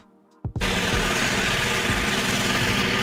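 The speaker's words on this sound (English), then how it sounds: "Snowplow train, the winter warrior of the track." Snowplow train engine, a rail vehicle with a giant plow in front for clearing snow on the track, starting abruptly after near silence and then running as a loud, steady, broadband rumble.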